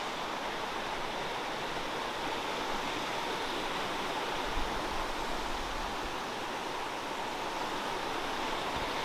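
Steady, full-bodied rush of a waterfall in the woods near Lake Tahoe, a continuous broadband roar that stays constant and fairly close throughout, with no voices.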